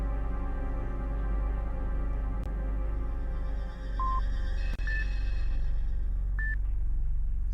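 Keypad code entry in the survival horror game Dino Crisis: three short electronic tones chirp apart over a steady low hum, with a soft click between them.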